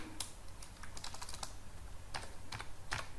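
Quick, light taps on a computer keyboard come in an irregular rhythm of short clusters as PHP code is typed into a text editor, close and fairly quiet with no talk.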